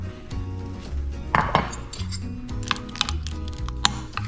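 A bowl of melted chocolate stirred with a utensil after microwaving, giving light clinks and scrapes against the bowl over soft background music.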